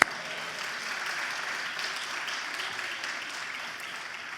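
A church congregation applauding after a call for an amen during a Spanish-language sermon, steady hissing clapping from many hands at moderate distance, even and sustained, beginning with a sharp onset.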